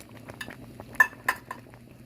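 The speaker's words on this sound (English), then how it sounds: "Just continue to stir till you get a few of your lumps out." Beef stew with tomato sauce stirred in a pot: sparse metallic clinks and taps of a utensil against the pot, a few distinct knocks close by in otherwise quiet surroundings.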